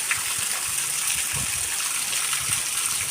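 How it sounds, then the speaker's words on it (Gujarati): Dense, steady hiss of heavy rain pouring down, with water gushing and splashing nearby throughout. "કેવો વરસાદ વરસી રહ્યો છે જોરદાર વરસાદ પડી રહ્યો છે"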